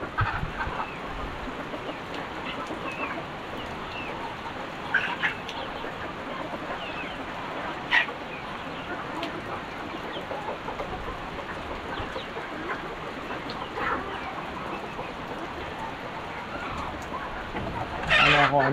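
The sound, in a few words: chickens clucking while eating wheat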